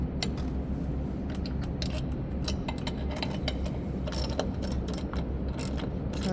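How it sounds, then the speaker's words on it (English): A hand ratchet drives a nut onto a bolt while an awning is mounted, its rapid pawl clicks running steadily and closely throughout over a constant low background, with no voices. "using the ratchet to screw it in, which is a lot easier than trying to use the wrench to do it."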